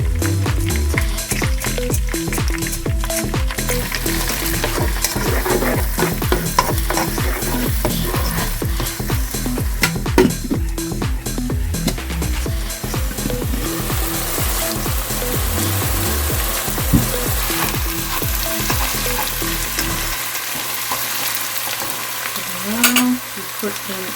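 Ginger, garlic and whole cloves fry in a hot pan with a dense, steady sizzle, broken by rhythmic stirring and scraping clatter; the sizzle drops away sharply in the last few seconds.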